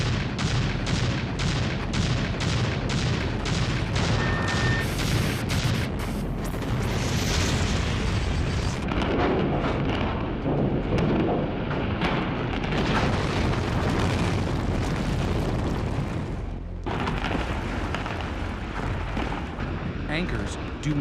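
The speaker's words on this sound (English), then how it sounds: "Columns on the east end of the garage detonate first. Explosives in the upper levels go off." Explosive charges detonate in sequence during a building demolition of a tower and its parking garage, a rapid chain of loud booms and cracks giving way to a long roaring rumble of collapsing structure, with a voice talking over it.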